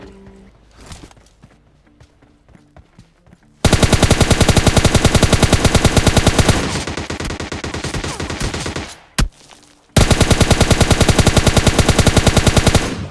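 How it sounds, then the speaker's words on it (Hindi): Enemy gunfire in PUBG Mobile Lite: a few scattered shots and footsteps, then long, loud, rapid automatic bursts that stop briefly and resume with another sustained volley. "तभी उसकी फायरिंग आती है।"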